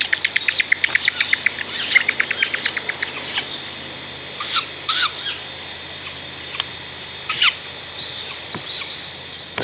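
Birds call and chirp in a Yamal forest where an owl feeds its chicks at the nest, a run of rapid repeated tweets followed by scattered sharp separate calls, clear against a faint steady background.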